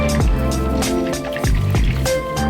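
Water pours and trickles out of a coconut in a steady, close gurgling stream with rhythmic glugs.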